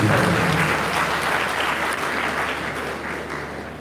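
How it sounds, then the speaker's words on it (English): Audience applause for a keynote speaker at a university Founders Day event, a dense sustained wash of many hands clapping that starts loud and slowly fades. "Please a round of applause for our keynote."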